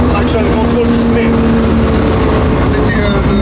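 A rally-chassis Volvo with a roughly 1000 hp engine roars loud and close with an unbroken drone and a steady tonal whine, while the traction control cuts in and a voice talks over it.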